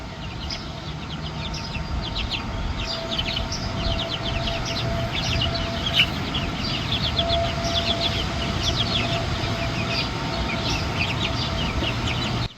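Chickens cluck and chirp steadily over a constant low hum, a busy flock heard at moderate distance with no voices.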